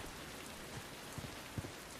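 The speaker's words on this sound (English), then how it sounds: "It's raining sideways out here." Rain pours steadily in Uncharted: The Lost Legacy, a dense, even hiss of drops on surfaces with a few slightly louder splats, heard alone with no voices.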